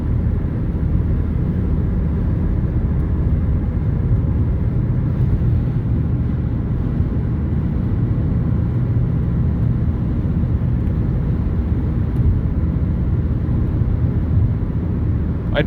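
Turbocharged VW Jetta engine running on boost while towing a trailer on flat road, a steady loud droning rumble with road and wind noise that holds constant throughout, with no talk.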